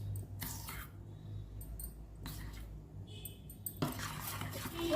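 Spoon scraping and stirring melted chocolate compound in a bowl, short bursts of close, soft clinking and scraping separated by quiet pauses.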